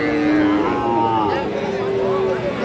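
Friesian and crossbred bull calves at a busy cattle market give long, drawn-out moos, with a couple of overlapping calls close by over a murmur of background crowd noise.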